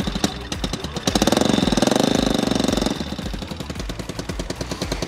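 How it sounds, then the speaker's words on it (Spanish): A motorcycle engine fires up and runs with a rapid, throaty mechanical chatter, swelling louder as it revs for a couple of seconds before settling back into a steady, pulsing idle, close by with no talk. "vamos a encender la motocicleta para que vean que no hay ningún problema"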